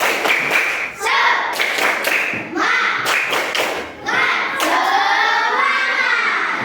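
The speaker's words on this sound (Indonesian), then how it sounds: "Kita melakukan aktivitas. Tepuk semangat." A group at a teaching workshop performs a rhythmic spirit-clap routine, with sharp claps in short bursts and patterns alternating with chanted voices, close and loud.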